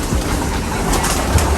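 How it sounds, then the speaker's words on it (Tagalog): Pigeons in an old loft crowd together at feeding time, a dense, continuous low murmur of cooing and fluttering that fills the space at close range with no talk over it. "Ingay ng mga kalapati pag pinapakain na napakadami"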